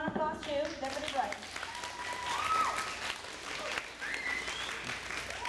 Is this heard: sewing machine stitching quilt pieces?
no